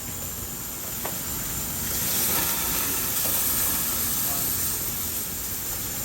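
Pork ribs sizzling on a barbecue grill as they are laid down, giving a steady broadband hiss with a few faint clicks, close and fairly quiet, with no talking.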